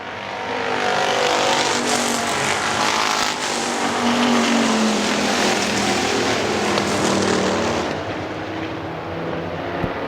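Factory stock race cars roar around Hartford Speedway Park, a loud, dense, continuous engine wash of several cars passing close, with tire noise under the drone.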